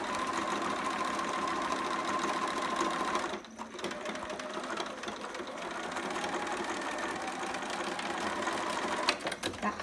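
A sewing machine runs steadily as it stitches the fabric of a child's romper, finishing with a backstitch; the close, continuous motor whir briefly dips around a pause, then resumes.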